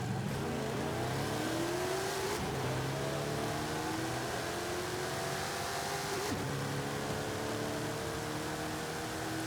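A drag car in Forza Horizon 5 accelerates hard through the gears, its engine whining steadily upward in pitch with brief dips at the shift points, loud and continuous.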